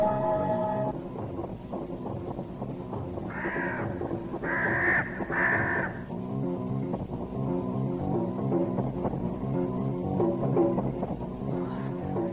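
Giant eagles screech in a drama sound effect, with loud harsh cawing bursts rising over a dense, continuous rumbling bed of music or ambience, a few cries clustered in the middle and fainter calls later.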